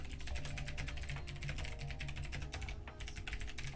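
Keys clatter on a computer keyboard during a live stock-market chart stream, with rapid, steady keystrokes running throughout over a constant low background hum.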